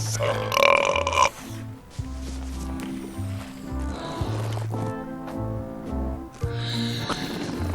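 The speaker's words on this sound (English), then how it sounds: "They're excellent for burping contests." Loud, drawn-out cartoonish burps from a burping contest in the adventure video game Return to Monkey Island, several in succession with rising and falling pitch over a game music backdrop.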